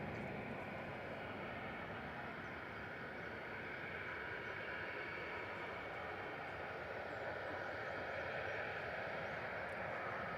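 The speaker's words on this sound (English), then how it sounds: "EasyJet off to Chanier in the background, GEZTH, A320-200" An EasyJet Airbus A320-200 departing Manchester Airport gives a faint, distant, continuous jet roar heard across the airfield, steady and broadband with no voices.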